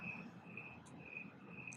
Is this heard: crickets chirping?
yes